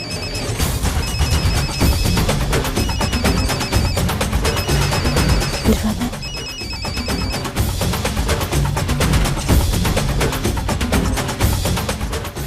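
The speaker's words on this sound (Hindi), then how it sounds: "That's my phone" A mobile phone rings loudly and continuously with a repeating electronic ringtone pattern, layered over dense dramatic background music in a Hindi television serial scene.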